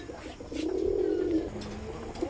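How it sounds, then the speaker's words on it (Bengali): Village-raised pet pigeons cooing at close range, a single soft, throaty rolling coo swelling and fading over a couple of seconds, with a brief second murmur near the end. "একদম গ্রাম বাংলার পালা কবুতর"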